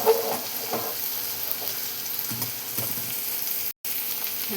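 Finely chopped onion and tomato frying in a pan as they get mixed, a steady close sizzle with a few soft stirring scrapes and one brief dropout near the end.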